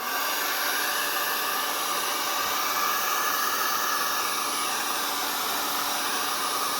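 A hair dryer blows steadily and loudly, drying opaque paint on an RC car body shell until it turns clear, a continuous close-up airy whoosh with no pauses.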